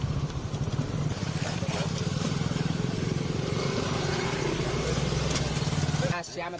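A motorcycle ridden along a canal bank, with farmers and local leaders riding alongside. Its steady engine drone runs close and loud throughout, then cuts away sharply near the end, with voices faintly mixed in.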